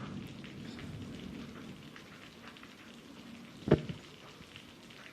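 Rain falling during a stage performance of The Tempest: a steady, soft patter and hiss, with one sharp thump near the end and no voices.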